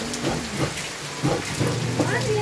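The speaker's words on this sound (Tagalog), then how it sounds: "Meron, may ulan." Rain keeps falling with a constant hiss as a voice or two murmurs indistinctly over it in short bursts.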